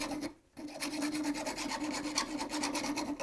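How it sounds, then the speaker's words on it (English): A rough, rhythmic rasping as a hole in a roof rack part for a sedan is filed and hollowed out by hand, with repeated close strokes after a brief pause. "Basically just hollowed out this hole a little bit"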